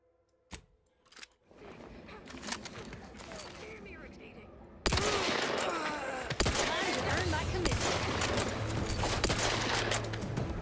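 Rifle gunfire in the sci-fi video game The Outer Worlds 2, a dense, steady barrage of shots that starts after a few isolated cracks and swells loud midway, continuing under game noise.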